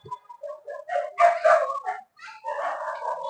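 A dog barks and yips in a rapid, excited run, with whining tones in between; close and fairly loud.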